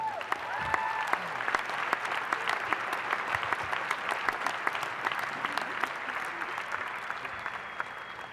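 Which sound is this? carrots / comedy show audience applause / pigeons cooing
comedy show audience applause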